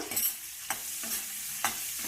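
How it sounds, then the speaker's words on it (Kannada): Onions being fried in oil in a cooking pot for an egg kurma, a soft continuous sizzle broken by three or four quick scraping stirs of a spoon, faint and close, with no talk. "ಎಗ್ ತೆಗ್ದಿರೋ ಪಾತ್ರೆಯಲ್ಲೇ ಇದನ್ನ ಈರುಳ್ಳಿ ಹಾಕೊಂಡು ಫ್ರೈ ಮಾಡ್ಕೊತೀವಿ"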